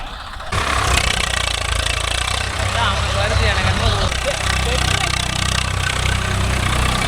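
A Swaraj 744 FE tractor engine runs steadily after a brief quiet start, a continuous loud diesel drone with low rumbling throb throughout, working in a dryland field with a 9 point spring cultivator.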